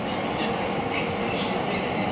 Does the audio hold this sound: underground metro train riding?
yes